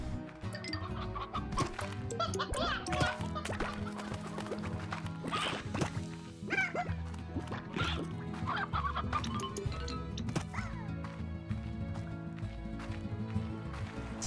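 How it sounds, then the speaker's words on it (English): Chickens cluck repeatedly in the Slime Rancher video game, busy overlapping calls over steady in-game music, with one voice talking over them now and then. "do have an abundance of chickens"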